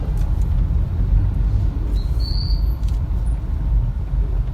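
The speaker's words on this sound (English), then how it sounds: "The roads are really busy this morning, so we're driving on the pavement." Busy morning road traffic in Yangon, Myanmar, heard from inside a car: a steady, loud low rumble of engines and tyres with passing vehicles, a brief higher whine or air-brake hiss midway, no talking.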